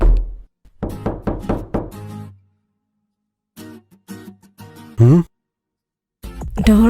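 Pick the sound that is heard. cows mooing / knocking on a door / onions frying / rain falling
knocking on a door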